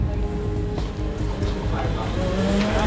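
Ferrari 488 GT3 Evo race car firing up and pulling out of the pit lane, a loud continuous engine roar with a rising tone near the end, heard over crowd noise and commentary voices.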